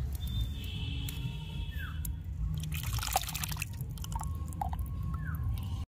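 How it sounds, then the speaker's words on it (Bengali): Chicken biryani meat stock (yakhni) is strained, the liquid trickling and dripping steadily through a strainer with occasional clinks, close and continuous. "এই যেটা পড়ছে এটাই হচ্ছে আমাদের বিরিয়ানির ইয়াখনি।"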